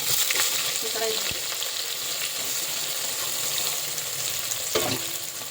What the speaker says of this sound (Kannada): ಚೆನ್ನಾಗಿ ಎಣ್ಣೆ ಬಿಸಿಯಾಗಿದೆ ಇದಕ್ಕೆ ನಾವು ಎರಡು ಈರುಳ್ಳಿ ನೋಡಿ ಸಣ್ಣಗೆ ಸ್ಲೇಸ್ ಥರ ಕಟ್ಕೊಂಡು